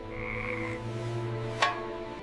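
A frog in an animated fairy tale lets out a steady, low croak that holds for about two seconds under soft harmonic tones, with a brief sharp click near the end.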